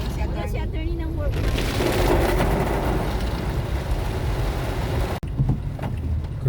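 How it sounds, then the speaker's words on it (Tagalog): Heavy nighttime downpour at Mall of Asia in the Philippines, a loud, dense, steady hiss of rain with a brief cut near the end and people talking faintly underneath. "Ngayon lang umulan na napakalakas guys."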